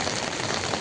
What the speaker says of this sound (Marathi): पावसाचं थैमान आज सकाळपासूनच आहे